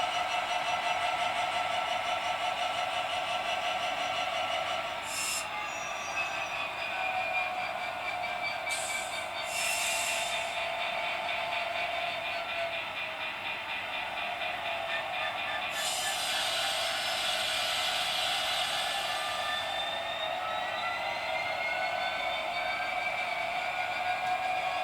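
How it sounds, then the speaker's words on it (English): A model Class 66 locomotive runs back and forth over Peco Insulfrog points on a sidings layout, giving a steady mechanical hum with a few brief bright clicks or squeaks as it crosses the track joints. "this locomotive is probably going over about 30 points in this one sidings test, because it's going backwards and forwards over the same points"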